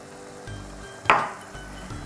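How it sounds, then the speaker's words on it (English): Tomatoes and caramelized onions for bulgur pilaf sizzle softly in a pan while a utensil stirs them, with one sharp scrape or clink against the pan partway through. "I'm giving everything a good mix and cooking the tomatoes for about 2-3 minutes."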